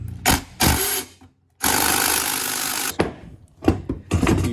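A weak impact wrench works on rusted carriage bolts while a Craftsman second-generation steering box is serviced, firing in several short bursts and one long rattling run, close by with brief silent gaps between.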